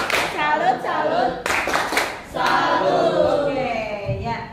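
A classroom group at a junior high school claps together in a rhythmic pattern while children's voices chant along, loud and close.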